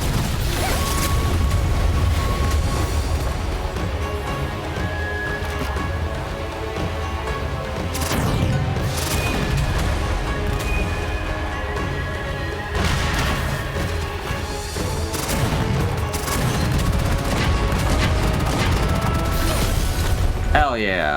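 Shooting and gunfire in the Gunfire Reborn video game, with repeated heavy blasts, crashes and mechanical clanking across a long busy stretch, loud and close, with a voice talking over it at times.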